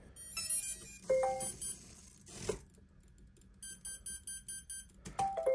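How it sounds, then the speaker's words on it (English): Short electronic beeps from a Hobbywing 80A V5 ESC sound up close, a few tones early on, then a quick regular series of pulsed beeps near the end. "you heard that beep beep"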